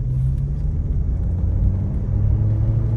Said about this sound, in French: on entend quand même vachement le moteur